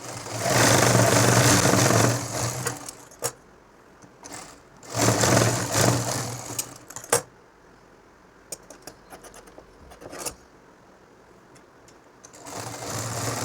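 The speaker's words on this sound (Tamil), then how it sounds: "இப்போ பாக்கெட் தைக்க போகிறேன்." A sewing machine stitches a pocket onto a nightie at home. It runs in several whirring bursts of a couple of seconds each, close and loud, with quiet gaps and small clicks and handling taps between runs.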